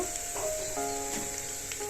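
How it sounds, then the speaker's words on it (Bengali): Steady crackling sizzle of onions frying in hot oil for ghugni, with faint scraping and a low hum beneath, no voices. "তো পেঁয়াজটা একটু লাল লাল করে ভাজা ভাজা করে নেব।"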